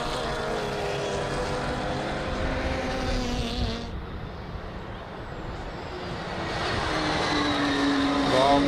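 Onboard a Black Rose Racing Volkswagen race car in a Porsche Cup race at Riga, the engine drones steadily, eases off around midway, then builds again with rising pitch.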